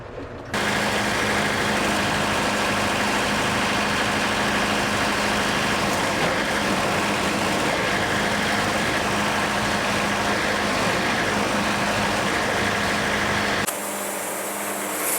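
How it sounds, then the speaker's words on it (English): A loud, continuous engine roar runs almost the whole time as a sawmill cuts through a log, steady and close, then abruptly drops off near the end. "Let's put this one on the mill and see how she does."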